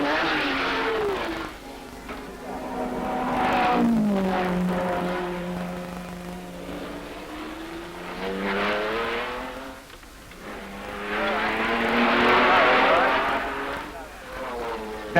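GT racing cars at Le Mans, including a Ferrari GT, a Triumph Spitfire and a Porsche, pass one after another, their engine notes swelling and fading as each car goes by.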